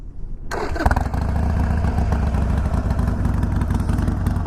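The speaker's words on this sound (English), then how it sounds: "I really enjoy the sound of the pipes." A Harley-Davidson Iron 883 motorcycle with Wyatt Gatling slip-on mufflers starts and settles into a loud, steady, throaty idle with a deep rumbling exhaust note, close by.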